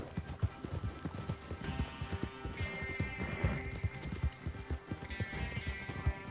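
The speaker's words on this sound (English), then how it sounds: "So I decided to stop and just wait for Ghost to come, which is my horse." Horse hooves clip-clop in a steady rhythm within a video game, the player's horse approaching at a near-constant pace with a brief whinny, loud and continuous across the scene.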